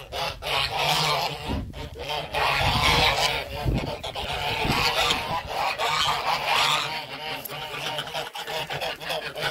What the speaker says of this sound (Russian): Сейчас гуси орут.